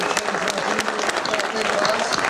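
An audience at a wrestling Hall of Fame induction ceremony claps steadily, with dense, fairly close applause and faint crowd murmur throughout.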